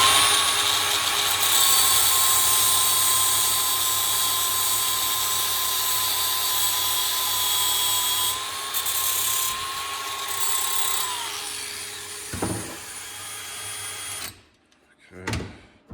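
A power drill spins a nut and bolt chucked in it during a steel smoker firebox door build, a loud steady whine that dips and cuts out near the end, with a voice talking and a clatter before silence.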